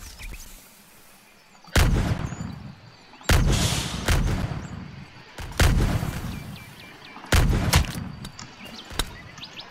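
Gunfire in the video game Pirates vs Ninjas comes as four loud, booming blasts spaced roughly two seconds apart, each trailing off into rumbling decay, with faint chirps in the quieter gaps.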